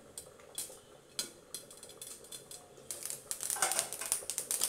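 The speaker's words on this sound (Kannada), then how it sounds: "ಸಾಸಿವೆ ಚಟ್ಟುಗುಟ್ಲಿ" Mustard seeds splutter in a spoonful of hot oil in a pan while tempering for a carrot curry. Scattered faint crackles and pops grow busier and denser toward the end.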